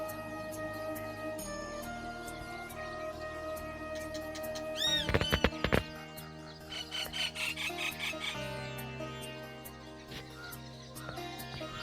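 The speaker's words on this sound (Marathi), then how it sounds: "त्यानंतर सकाळी सकाळी जो पक्ष्यांचा किलबिलाट असतो" High, squeaky morning bird chirps on a village farm by a river come in short bursts over a steady droning background, with a busier flurry of calls midway through.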